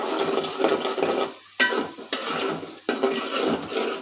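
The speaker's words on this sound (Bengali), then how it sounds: "এখন এটা ভালোভাবে মিক্সড করে নিব" A spoon stirs a spice mixture of cumin powder and salt in a pan for a spicy pangas fish bhuna with onion and garlic, scraping and clattering steadily over a continuous sizzle, broken by a few sharp clinks.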